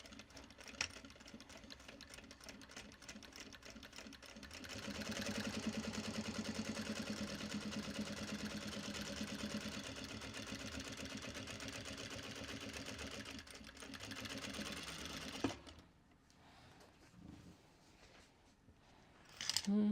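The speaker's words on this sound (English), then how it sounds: "Top stitch along both sides of the folded top edge." A sewing machine runs steadily at home, top stitching a folded edge of thick waxed canvas for a bag, a moderate buzzing whir lasting about ten seconds before stopping, with quieter handling noises around it.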